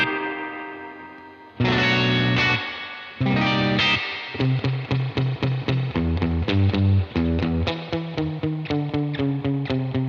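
Electric guitar through the reverb effects of a Fender ToneMaster Pro and a UAFX Dream: two sustained chords ringing out, then a string of plucked notes and chords, each trailing off in a lush reverb tail, with no talk.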